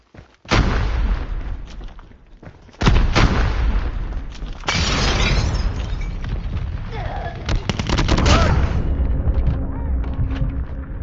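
A frag grenade bursts amid gunfire in a round-based objective match of a shooter game, with heavy booms, rapid shots and rumbling explosions over about eleven seconds while players call out.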